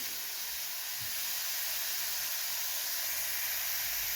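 Grated carrots frying in a pan for carrot halwa give a steady, even sizzling hiss that carries on unbroken throughout, with no talking over it.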